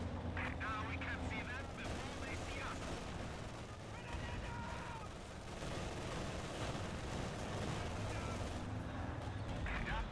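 Gunfire and explosions from a Sturm Panzer and other units in the video game Company of Heroes 2 crackle and boom in a dense, continuous battle mix, with a few sharper volleys standing out.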